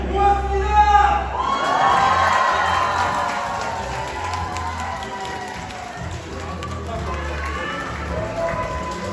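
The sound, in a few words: audience applause and cheering at a concert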